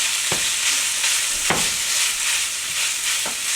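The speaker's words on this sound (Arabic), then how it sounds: "اضيف اللحمه، خلي بالي عشان ما تمسكش في بعض، استخدم الشوكه." Minced meat frying over softened onion in a pan, a loud, steady hiss of sizzling fat with three distinct scraping strokes as a fork breaks up the meat, close by and without speech.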